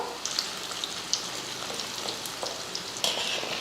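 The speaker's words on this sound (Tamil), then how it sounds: "எண்ணெய் காஞ்சதுமே பன்னீர் வந்து பொறிச்சு எடுத்துடலாம்" Paneer pieces deep-frying in hot oil in a kadai, a steady crackling sizzle with scattered pops and spatters, no voices.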